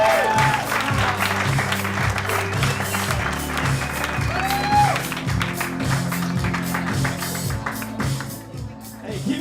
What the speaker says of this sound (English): Clap it up for Michael Schirtzer.